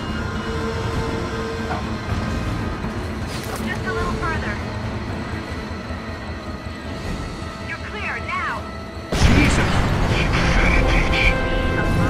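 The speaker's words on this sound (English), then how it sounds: "tell me when the train clears the station." A train rumbles steadily through a station in Rainbow Six Vegas 2, a loud clattering roar under voices and radio chatter, then surges louder near the end.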